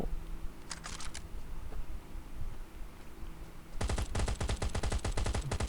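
Bursts of rapid gunfire in the video game Last Island of Survival, a short rattling volley early on, then a longer, louder stream of shots at the end over a low steady background hum.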